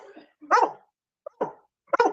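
A dog close by gives a few short, sharp barks and yips mixed with a whine, in uneven bursts separated by brief pauses.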